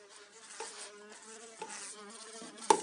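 Bee buzzing in flight indoors during a close-up photo setup, a steady droning hum that wavers in pitch as it moves around, loud and close, ending with a sharp knock.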